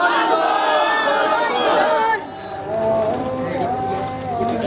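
A crowd at a Sunni religious conference gathering in Bangladesh roars back in unison, a loud massed shout of many voices that swells for about two seconds, then gives way to softer scattered chatter and murmuring.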